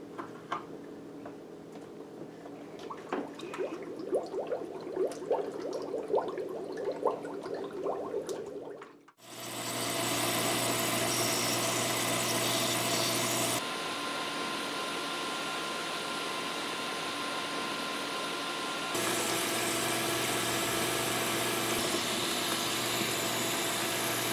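A DIY indirect evaporative air cooler drawing only 39 watts runs indoors, giving a steady broadband fan whoosh with faint ticking and water sounds, stopping briefly, then restarting louder and holding a constant roar at different speeds.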